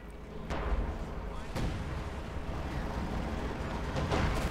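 Pack howitzer artillery in Company of Heroes 2 firing at spotted targets: a few deep booming shots, loud and spaced about a second apart, over constant battle rumble with a commentator talking throughout.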